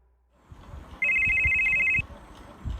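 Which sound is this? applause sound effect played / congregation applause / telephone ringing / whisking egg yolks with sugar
telephone ringing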